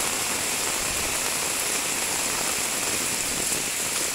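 Heavy rain pours steadily over Samarinda city, a dense, continuous hiss of downpour with no let-up and no voices.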